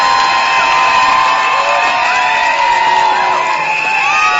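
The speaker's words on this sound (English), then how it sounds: "Let's give them a round of applause." A crowd at a state capitol rally cheers and applauds loudly, with whoops and high shouts rising over a dense bed of clapping.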